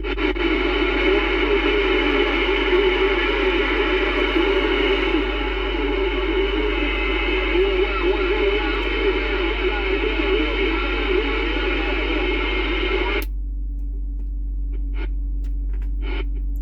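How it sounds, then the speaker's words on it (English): Dirty switch on a 1976 Royce 1-650 CB radio producing steady loud static crackle and hiss for most of the clip, cutting abruptly to a quieter hum near the end with a few faint clicks. "Sounds like the little roto turbulator is dirty."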